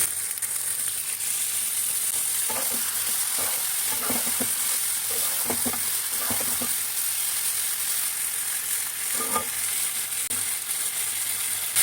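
Mutton curry spices and yogurt stir-fry in a pan with a constant loud sizzle. A scattered run of spatula scrapes and knocks comes through the middle stretch, and no one talks.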